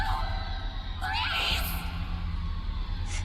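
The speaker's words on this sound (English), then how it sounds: "All throughout the house, shouts of alarm and surprise ring out" Shouts of alarm and surprise ring out through a house, with loud yelling and whooping voices that rise in bursts over a noisy background for about three seconds.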